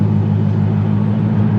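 A Procharged Mustang with a Flowmaster exhaust rumbles steadily at close range, a deep, even low-pitched drone with no revving change and no voices.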